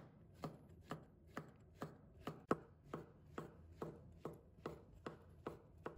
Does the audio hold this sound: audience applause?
no